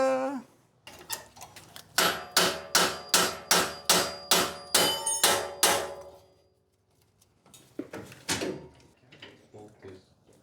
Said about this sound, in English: we're gonna whack it with a hammer to knock it loose